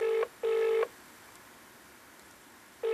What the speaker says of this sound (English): I will give him a phone call now and see if he can sort this out for us.